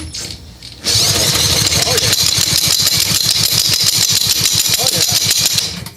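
A lawnmower engine is cranked during a compression check, producing a loud, rapid, even chugging rhythm that starts abruptly and continues for several seconds before cutting off.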